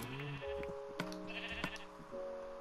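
Sheep bleat repeatedly in Minecraft while being sheared, a cluster of overlapping game sheep cries with short clipping snips mixed in, all fairly faint.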